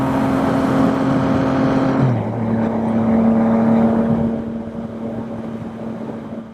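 A Yamaha MT-09 motorcycle engine running, a loud steady drone that drops in pitch partway through and eases off toward the end.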